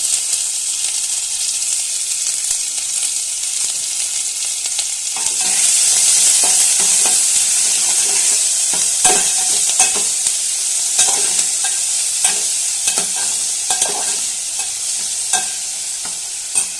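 Curry leaves sputter and crackle loudly in hot oil, with a dense, continuous spitting sizzle that swells and grows harsher after the first few seconds.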